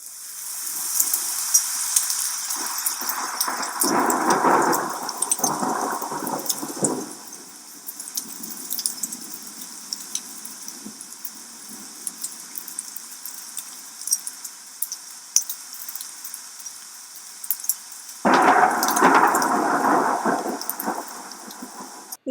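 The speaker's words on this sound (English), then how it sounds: "let's see the raindrop signals generated by thunderstorms." Rain falling during a thunderstorm, with bursts of heavier rain and rumbling near the start and again toward the end, and a steady softer patter in between. No talking.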